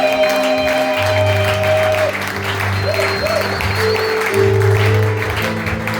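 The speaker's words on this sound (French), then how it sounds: "Est-ce que nous pouvons acclamer très fort pour le roi de gloire?" A church congregation at a Sunday service claps loudly and continuously, the applause mixed with sustained tones and some voices throughout.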